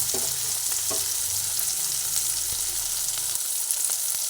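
Mashed cauliflower going into a hot pan for a Bengali cauliflower bhorta, giving a steady close sizzle of frying with a few soft stirring knocks, no voices.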